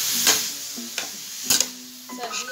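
Grated carrot halwa stirred in ghee in a pan over high flame, with a few scraping spoon strokes and light sizzling at close range.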